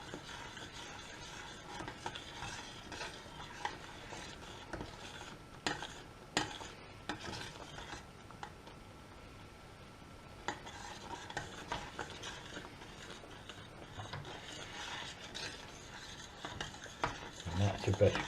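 A spoon works through bechamel sauce in a pan with steady scraping and swishing strokes, a faint sizzle underneath, continuous at low to moderate level with no voices.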